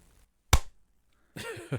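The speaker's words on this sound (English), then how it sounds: "We're getting good at clapping" Two hosts clap their hands together in unison, making a single sharp, close smack in near silence. A voice starts talking shortly after.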